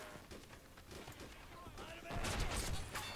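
Gunfire exchanged between US and Russian troops in MOWAS2, a Cold War mod urban battle, dense overlapping shots and bursts building to a louder, busier volley near the end.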